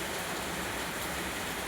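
Heavy rain pours outside in a dense, steady, loud hiss of water with no breaks and no voices.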